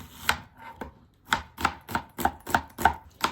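An onion is chopped with a hand chopper fitted with an attached knife, giving about ten crisp, regular chops close by in a steady rhythm, with no talking.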